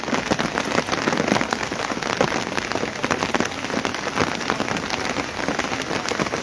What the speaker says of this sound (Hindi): ये देखिए किस कदर तेज़ बारिश का ये सिलसिला यहाँ पर चल रहा है।